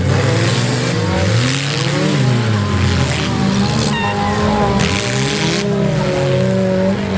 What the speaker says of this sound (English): Oh, a 4-car pileup.